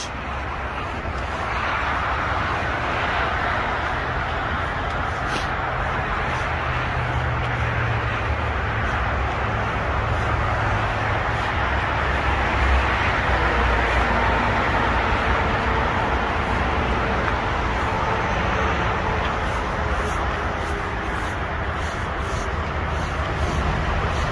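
Steady roadside traffic with vehicles continuously rolling past, a broad, constant roar that swells and eases slightly over time, heard close by with no clear breaks between passes.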